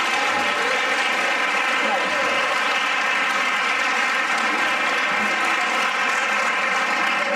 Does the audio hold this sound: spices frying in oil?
no